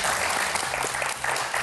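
Studio audience applause on a Bulgarian television quiz show, dense clapping that fills the whole stretch at a steady, lively level.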